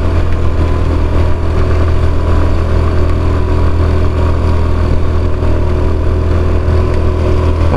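A motorcycle climbs a very steep road while loaded with heavy luggage, its engine droning steadily and loudly up close throughout, with no talking.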